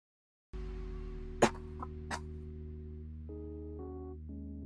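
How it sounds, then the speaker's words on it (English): A few short, faint coughs break through a quiet, steady low hum. "I got the savage cough today."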